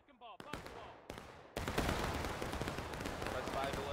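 Musket volley fire in the Civil War video game War of Rights: a few scattered shots, then a dense, crackling fusillade of many muskets that keeps rolling, with a voice faintly heard at the start.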